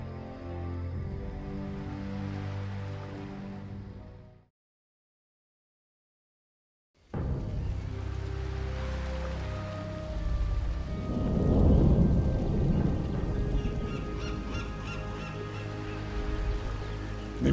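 A stormy sea in a Warcraft 3 cutscene, with steady rain and surf, then a sudden break of silence before a loud thunder crack rolls in and rumbles under the continuing downpour.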